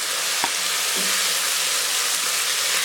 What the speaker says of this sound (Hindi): अब मैं इनको भी थोड़ी देर फ्राई कर लूँगी।